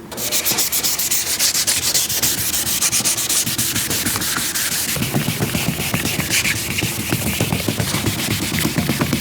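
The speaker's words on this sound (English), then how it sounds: "And next we'll sand it down with some 1500 grit sanding paper." Car headlight lens sanded by hand with fine 1500 grit paper: fast, even rubbing strokes, close and continuous, growing slightly harsher partway through, with no voices.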